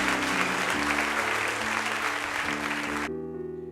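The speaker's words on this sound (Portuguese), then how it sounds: "Dê uma salva de palmas bem forte, bem forte." A church congregation claps loudly and steadily while sustained organ or keyboard chords play beneath, the clapping cutting off near the end as the music carries on alone.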